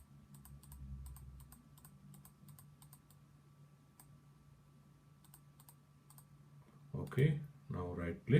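Computer mouse and keys clicking during work in simulation software, a string of small sharp clicks spaced irregularly over a low hum, followed by a person talking near the end.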